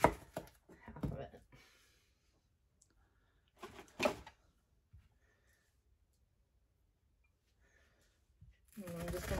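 A knife slices an onion thinly on a cutting board, giving a few soft, close chopping taps in short bursts separated by long quiet gaps, with no talk.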